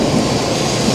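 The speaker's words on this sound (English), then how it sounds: "I'm waiting here for the Shinkansen to arrive" A Shinkansen bullet train at a station in Japan gives off a steady, loud, broadband rumble and rush, close by and unbroken, with no voices.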